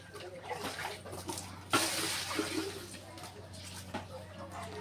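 Water splashes and runs continuously as it is poured for washing clothes by hand, with a sudden louder gush partway through, while people talk nearby.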